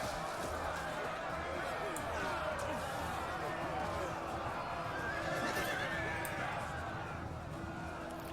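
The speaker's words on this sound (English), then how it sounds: "you can see Mongol horse archers going in behind now" Mongol horse archers' horses in a medieval Total War battle whinny and neigh over hoofbeats and a continuous battlefield din, faint and distant, while someone talks over the scene.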